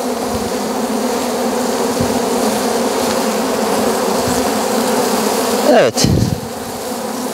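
Dense, continuous buzzing of many honeybees close by as they are transferred into a new hive, with a brief louder disturbance near the end and a single short spoken word.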